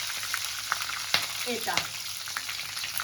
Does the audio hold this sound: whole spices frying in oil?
yes